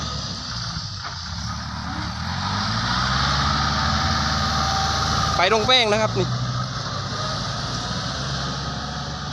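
A tractor fitted with a new 210-horsepower engine hauls about ten tons up a sticky, heavy track, its steady low drone rumbling beneath a man's speech throughout.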